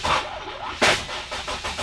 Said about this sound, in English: I'm pretty sure the car's gonna turn on